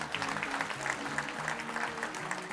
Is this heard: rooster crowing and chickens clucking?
no